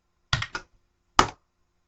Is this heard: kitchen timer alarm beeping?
no